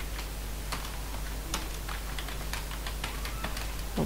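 Quick, uneven keystrokes on a computer keyboard while coding, light clicks tapping steadily at close range over a faint background hum, with no talking.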